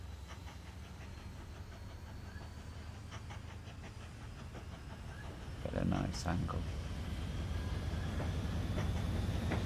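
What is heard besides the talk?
trains running in the video game Mashinky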